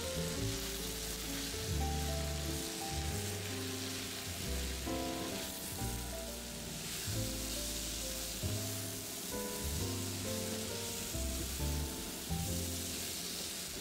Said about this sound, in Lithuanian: Dabar viską kepinsime ant vidutinio kaitrumo dar apie 7-8 minutes, kol mėsos faršas pilnai pasigamins, o pievagrybiai ir pak čoj suminkštės.